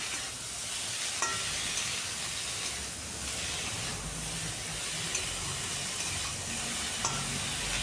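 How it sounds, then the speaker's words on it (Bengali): Pumpkin leaves, potato, eggplant and rohu fish sauté together for a rohu curry, giving a steady, close, even hiss of frying with a few faint utensil ticks and no talking. "সাথে কুমড়ো পাতা রেখেছিলাম, কুমড়ো পাতাগুলোও দিয়ে দিচ্ছি একসাথে। সব কিছু দিয়ে এখন আরও কিছুক্ষণ কষাবো।"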